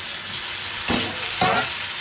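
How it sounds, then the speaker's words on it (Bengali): Spiced masala frying in a pan for jackfruit and potato curry flares into two loud bursts of sizzling as small splashes of water hit it, over a steady crackling fry. "একটু সামান্য জল দিয়ে দিচ্ছি।"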